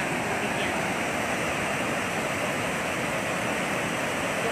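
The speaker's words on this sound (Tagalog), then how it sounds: "Yan, tubig yan." Floodwater rushing out of an overflowing Angat Dam, a loud, steady, broadband roar of churning water with no breaks.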